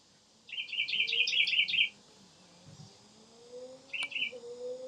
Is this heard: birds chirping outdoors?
yes